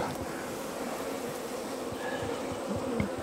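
Honeybees in a queenless hive overrun by laying workers give a steady, dense buzzing hum that holds at a constant level throughout, with faint low thumps mixed in.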